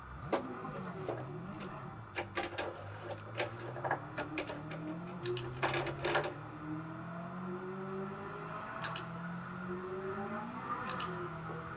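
A race car on slick tyres in the Gran Turismo video game skids repeatedly over a steady engine whine, with sharp squeals and scrapes in the first half and a smoother run of engine tone afterward.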